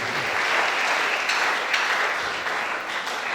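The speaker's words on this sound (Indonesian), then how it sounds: "Tepuk tangan dulu untuk Bapak Amayorin" Applause from an audience at a school graduation farewell ceremony, a dense steady wash of many hands clapping throughout, fairly loud and close with no one talking over it.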